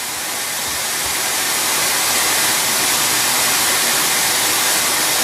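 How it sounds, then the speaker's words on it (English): Steady, loud white noise played through a Carver M400A amplifier, a constant full hiss with no variation or pauses, heard alone. "We're going to listen to some white noise."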